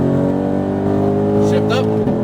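Mustang Shelby GT500 on a racetrack, its engine droning loud and steady under full throttle with strong harmonics, a brief dip near the end as it shifts up, close to the listener.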